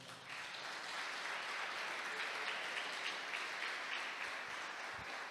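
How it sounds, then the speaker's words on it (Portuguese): A church congregation applauds steadily for several seconds, a dense, even wash of many hands clapping at moderate distance, sustained without a break and no voices standing out. "Você pode aplaudir o Senhor?"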